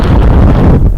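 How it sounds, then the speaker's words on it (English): Gusty wind buffeting a microphone on a windy hilltop at the end of a coast-to-coast run, a loud steady low rumble filling the whole moment, with no voices. "It's a bit windy, so it'll probably get noisy"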